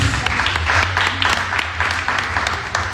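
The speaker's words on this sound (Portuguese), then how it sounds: "Você pode aplaudir ao Senhor Jesus por isso?" A church congregation applauds during a sermon, loud, dense clapping with rhythmic peaks over a low hum, sustained for the whole stretch.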